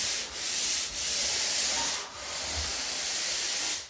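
A surface is sanded by hand before priming, giving a loud, steady rasping hiss. Strokes run long and even, with brief dips between passes.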